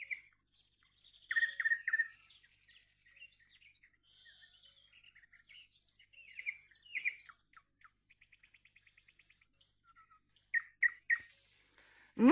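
A nightingale sings in bursts of whistles, chirps and a fast buzzy trill at about 5 a.m. in early June, with short pauses between phrases, clear and fairly close against a quiet background.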